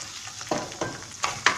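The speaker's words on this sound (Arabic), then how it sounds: "نزيد له حوالي نص مغرفه تاع طوماطيش مصبره، نقلي الكل مع بعض" Canned tomato is fried together with a mixture in a pan, giving a soft background sizzle broken by a few short scraping strokes of a spoon.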